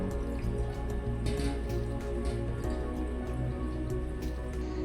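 Water drips and trickles from freshly strained chhena being rinsed under clean water in a home kitchen, a continuous soft patter of drops with occasional louder splashes nearby.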